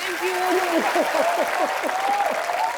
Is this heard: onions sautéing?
no